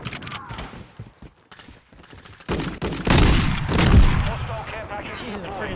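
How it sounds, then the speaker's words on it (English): Gunfire in Call of Duty Modern Warfare II, with sparse shots early followed by a loud dense burst of blasts and rumbling explosions, mixed with game effects. "Jesus, a freaking shotgun."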